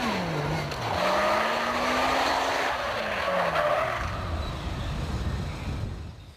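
A Lotus Exige on semi-slick tyres squeals and skids around barrels, its engine note rising and falling through the turns, with long tyre screeches up close.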